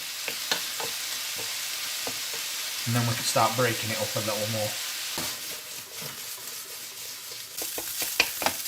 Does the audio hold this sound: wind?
no